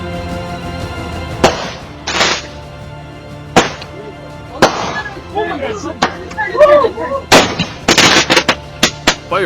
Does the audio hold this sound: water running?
no